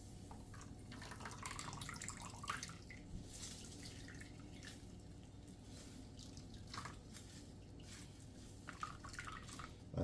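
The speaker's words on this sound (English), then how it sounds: "You're not gonna extract all the juice, but with this, you can wring it" Juice wrung from melon skin and ginger through a strainer drips and trickles faintly and steadily, a soft, close, irregular patter of liquid lasting throughout with no voices.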